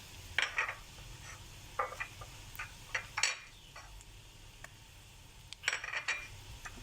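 Cornflour being stirred into butter and garlic in a pan, with light scraping and clinks of a utensil against the metal pan in intermittent bursts, and a faint sizzle underneath.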